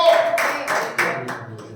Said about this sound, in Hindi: ताली बजाकर हम परमेश्वर का धन्यवाद करें